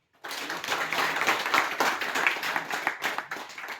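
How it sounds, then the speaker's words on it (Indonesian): A classroom group claps hands together in a brisk burst, dense and close, sustained for several seconds with slight rhythmic pulses before it stops. "Tepuk tangan dulu untuk kita."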